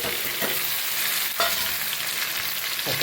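Chillies, tomatoes and onion fry in hot oil with mustard seeds and garlic, a dense close sizzle with a few stirring scrapes over three seconds.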